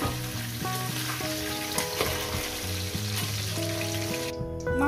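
Fish heads fry in hot oil, giving a steady crackling sizzle throughout, close and moderately loud, with faint background music and no talking.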